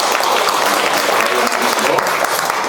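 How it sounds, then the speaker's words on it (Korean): Korean church congregation applauding during a Sunday service to encourage a newly appointed youth department head, a dense, loud, continuous burst of clapping filling the room. "우리 박수로 격려해 주시고"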